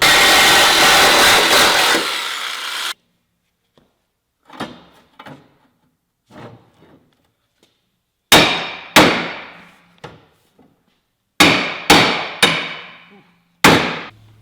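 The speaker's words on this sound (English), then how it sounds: "Frame rail's so bent, you can't get the bolt in there. Or you can't get a nut on it. Gonna do some more pounding." A bent rally car frame rail struck with a hammer, a burst of loud ringing metallic blows in quick groups with decaying clangs between quieter gaps, after a short stretch of broadband whooshing noise.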